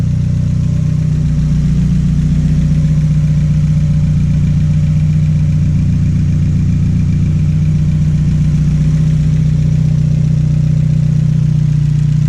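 A turbocharged Honda Integra engine idles steadily at close range, a low, even rumble with a faint clattery texture that holds without change throughout.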